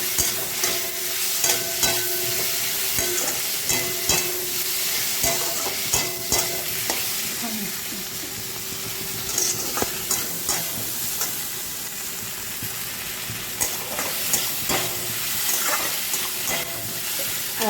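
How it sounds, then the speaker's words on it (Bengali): Grated ginger frying in a pan keeps up a continuous sizzle, broken by frequent scraping and tapping as a spoon stirs it, close and fairly loud with no voices. "আদাটা ভাজা ভাজা হয়ে গেছে।"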